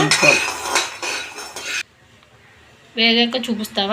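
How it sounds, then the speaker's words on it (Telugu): Peanuts being stirred as they roast in a pan on low heat: a dense, close rattle and scrape for nearly two seconds, then a quiet pause, then a person speaking. "ఇలాగ అస్తమానం కలుపుకుంటూ ఉండాలి లేకపోతే ఒక పక్కే మాడిపో"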